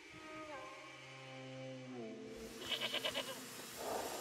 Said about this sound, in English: Alright, let's get the goat.